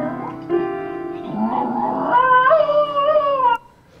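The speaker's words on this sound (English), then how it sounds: "this goes on for a minute, and the dog sings" A dog howls along with a video, a loud sustained wavering howl with rising pitch that ends abruptly, heard alone without talk.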